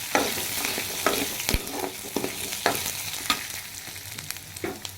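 Tamarind, garlic and ginger sauté in a hot pan for a homemade coriander chutney, with a steady sizzle broken by repeated scrapes and stirs of a spoon, close and fairly quiet.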